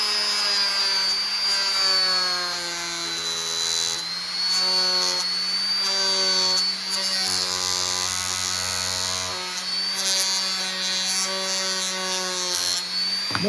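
A rotary tool with a homemade leather polishing attachment polishes a knife with polishing compound thinned in kerosene, giving a loud, steady high-pitched motor whine that holds for the whole stretch with slight pitch dips under load.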